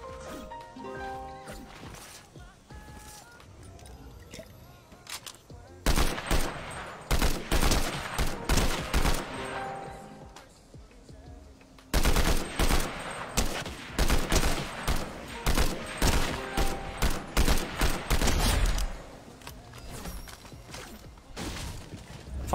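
Video game gunfire crackles in rapid bursts and sustained volleys, loud and close, separated by quieter stretches of background game noise.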